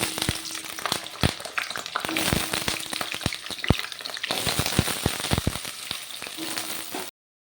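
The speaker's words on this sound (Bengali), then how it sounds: "এখানে কেটে রাখা আলুগুলো ভেজে নেব।" Cut potato pieces fry in hot oil in a wok, a steady crackling sizzle broken by sharp spattering pops, close and fairly loud, with no voices.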